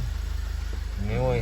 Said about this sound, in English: we're up and running and we're going on all four and idling there nicely